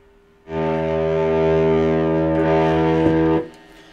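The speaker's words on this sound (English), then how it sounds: "Let's see what it does with some distortion." One sustained, heavily distorted chord from a Squier Sonic Mustang electric guitar, bridge position, rings out for about three seconds, thick and buzzing, then cuts off abruptly.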